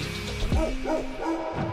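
A dog barks in a short sequence of yipping woofs set into a music track, with a steady musical bed running underneath.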